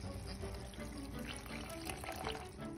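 A mixture of lemon juice and water poured while cooking fish and grits for breakfast, a steady close splashing stream heard throughout.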